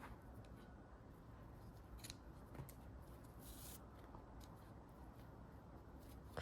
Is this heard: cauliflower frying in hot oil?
no